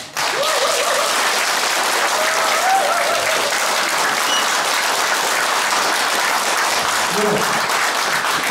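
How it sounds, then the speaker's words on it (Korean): A crowd at a rally for a preliminary election candidate in Jecheon-Danyang claps loudly and continuously, a thick, even roar of applause sustained from start to finish. "우리 모두 필승의 힘을 모아 큰 박수를 한번 보내주시기 바랍니다"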